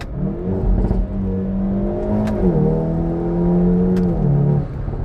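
A tuned Hyundai i30N hatchback with a downpipe and software tune on its stock turbo accelerates hard, its engine note climbing steadily through the gears with brief dips at the shifts, loud and close from inside the cabin.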